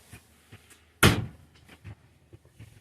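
A solid cabinet door in a 2024 Forest River Geo Pro 20BHS RV shuts with one sharp, close wooden thunk, followed by a few faint knocks and small rattles.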